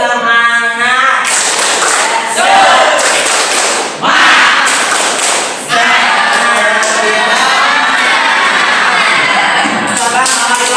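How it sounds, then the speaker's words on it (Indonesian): Schoolchildren at a kindergarten chant and clap together in a loud, lively group, with shouting voices and rhythmic thumping claps filling the room close by, broken by a brief pause midway. "Tepuk semangat."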